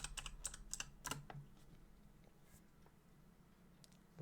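Quick bursts of keystrokes on a computer keyboard, a short run of rapid clicks that thins into a few scattered taps, soft and close in a quiet room.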